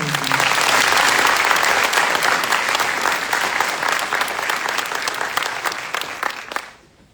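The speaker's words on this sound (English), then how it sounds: "Please join me in a round of applause for the Drill Sergeant Leader of the Cycle." A crowd at a military basic training graduation applauds the Drill Sergeant Leader of the Cycle with loud, dense clapping that holds steady for about six seconds and then stops abruptly.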